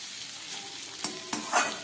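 Masala sautéed in oil and stirred in a pan for an Indian-style colocasia curry with hilsa fish head, a steady close sizzle with a few scraping strokes of the spoon, no talking.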